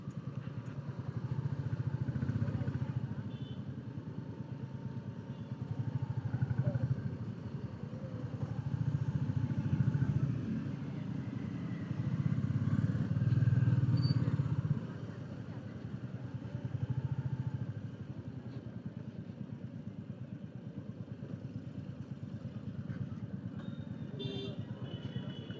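A motorcycle rides through the streets of Trimbakeshwar town, its engine a steady low throb that swells and fades in several waves, fairly quiet and continuous with light clatter.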